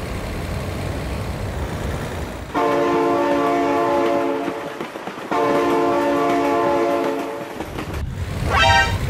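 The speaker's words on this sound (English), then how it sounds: "Oh my god, train!" Train horn blasts in a driving video game, two long loud tonal honks over rumbling engine noise, followed by a rising whistle-like tone near the end, with no talk.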